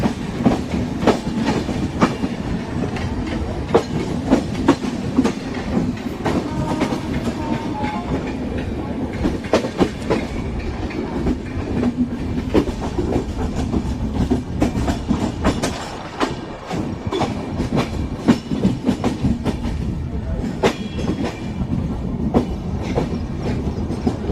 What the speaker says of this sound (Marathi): फायनल ट्रेन सुटलेली आहे